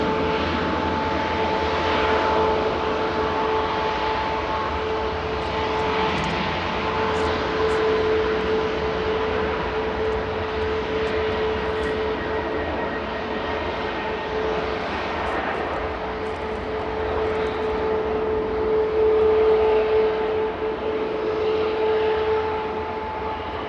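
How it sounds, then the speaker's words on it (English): Ryanair airliner departing Manchester Airport for Berlin, a steady, moderately loud jet roar with a sustained engine whine running the whole length, no voices. "Ryanair departing to Berlin now with flight"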